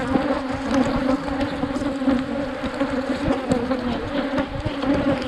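A dense, steady buzz of many honeybees fills the air up close, a constant droning hum with individual bees passing near.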